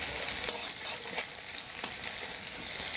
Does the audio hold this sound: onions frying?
yes